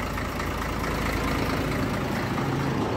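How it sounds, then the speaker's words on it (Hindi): An Ashok Leyland Hino 2516 BS3 truck with a bore engine idles just after starting, a steady low rumble holding evenly at close range with no voices. "गाड़ी अभी स्टार्ट हो गया,"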